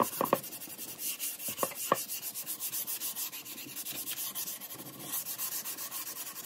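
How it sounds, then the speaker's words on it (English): Wood being sanded by hand with 220 grit sandpaper during a thrift-store furniture makeover, producing a steady, close back-and-forth rasping rhythm with a few sharper scrapes at the start. "I'm gonna go over first with some 220 grit sandpaper"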